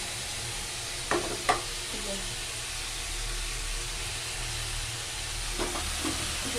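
Fish frying in spiced oil in a home kitchen pan for a Bengali fish curry, a steady soft sizzle throughout with a few brief utensil clinks near the start and end.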